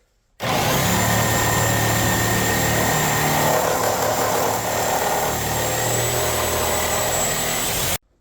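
A reciprocating saw fitted with a Milwaukee carbide blade cutting through nail-embedded wood, a loud, continuous buzzing roar that starts abruptly and runs unbroken for about seven seconds before cutting off.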